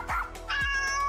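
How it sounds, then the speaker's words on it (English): A pet cat meows twice in quick succession, close and clear, the second call longer and more drawn out, with no talking. "my cat Kygo and my dog Rhea has something to say."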